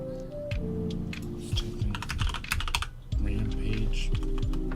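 Rapid typing on a computer keyboard, close and clear, with bursts of key clicks and short pauses between them over a faint background hum.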